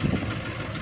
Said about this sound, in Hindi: ये एक और आ गया ट्रैक्टर महिंद्रा यूवो दो सौ पचहत्तर